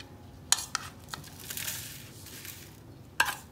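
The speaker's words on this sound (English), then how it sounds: "Let's put all the crust into the pan" Cheesecake crust crumbs are tipped into a pan, giving a few sharp clinks and taps followed by a soft, scattered rustle of crumbs, close and fairly quiet.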